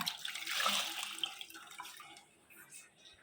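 Water poured into a cleaning mixture, a faint splashing gush that fades into a few soft trickles and drips.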